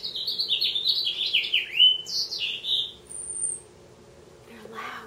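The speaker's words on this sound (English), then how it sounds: "we've got some new birds nesting in the atrium" Birds nesting in a building atrium chirp and tweet in quick, bright bursts for a few seconds, fairly close, then fade to quiet with a faint rustle near the end.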